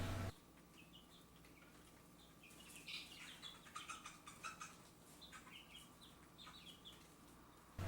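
Golden Comet chickens softly cluck and chirp in a quiet coop, with scattered small calls and light rustling at a distance.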